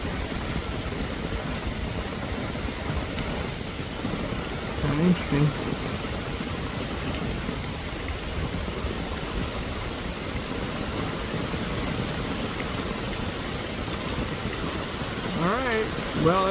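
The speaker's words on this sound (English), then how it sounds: "It is raining really, really hard." Heavy rain pours steadily over an open cattle pasture near a fence line, a dense continuous hiss throughout, with a person speaking briefly over it.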